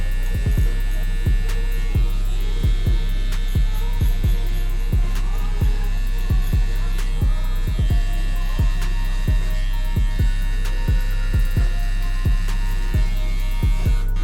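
Electric hair clipper with a 0 guard buzzing steadily through a low fade haircut, a constant close hum with faint regular clicks, no talking.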